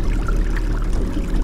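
Water bubbling and churning at a spot on a river or lake during a fishing trip, a dense continuous rushing wash heard close and loud without pause.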